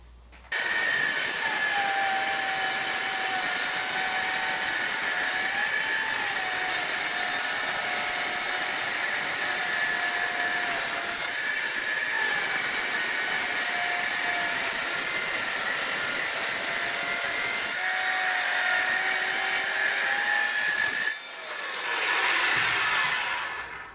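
A power saw runs through a perspex acrylic sheet with a steady, loud, high whining drone, its pitch dipping slightly as the blade bites, then the motor cuts off and winds down near the end.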